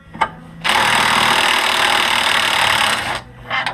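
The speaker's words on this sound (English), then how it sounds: "This is a little rigid from Home Depot, worth every penny. Little impact wrench." A Ridgid cordless impact wrench hammers loudly and continuously for about two and a half seconds, removing a motor mount bolt on a 2005-2007 Honda Odyssey, with brief taps before and after.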